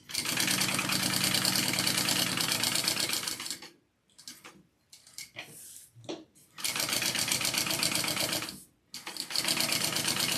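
Sewing machine stitching two handbag pieces together in long, steady runs, stopping and restarting with brief pauses and softer handling noises in between, close and loud.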